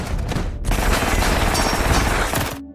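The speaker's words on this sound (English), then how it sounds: "Chaos explodes, gunfire everywhere." A chaotic action-movie shootout erupts with dense, rapid bursts of gunfire and booming shots, loud and continuous for a couple of seconds before cutting off abruptly.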